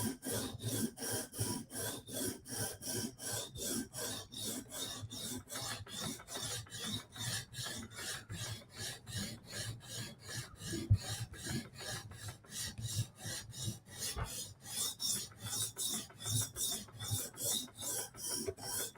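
A steel blade of a Chris Reeve Sebenza knife scrapes in rhythmic back-and-forth strokes on a TSProf Kadet sharpener, dozens of even, close rasping passes repeating steadily without speech.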